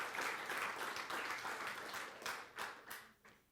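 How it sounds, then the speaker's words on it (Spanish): A church congregation bursts into applause during a sermon, a broad wash of clapping that fades into a few scattered claps at the end, quiet and somewhat distant. "Aplauda al Dios maravilloso y grande que usted tiene."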